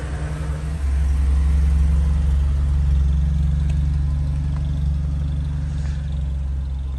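A Mercedes SLK 200 engine idles close by, a steady low rumble that firms up after the first second and holds evenly, with no speech.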